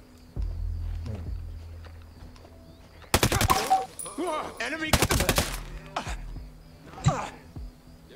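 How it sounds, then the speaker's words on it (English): AK-47 gunfire in Ghost Recon Breakpoint: two sharp, loud bursts of rapid automatic shots a couple of seconds apart, followed by a shorter burst, set against quieter game ambience with faint bird calls. "AK-47."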